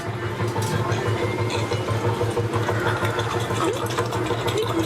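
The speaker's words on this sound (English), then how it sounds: "we're just on the tractors now" The themed tractor ride at Europa Park, a steady chugging engine idle with a rapid mechanical rhythm, heard close under faint crowd murmur.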